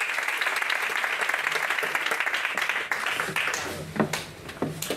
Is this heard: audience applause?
yes